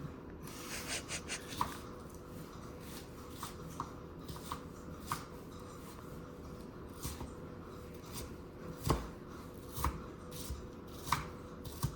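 An onion is chopped with a knife on a board, producing irregular, fairly soft taps spread unevenly across the clip, close by with a light background hiss.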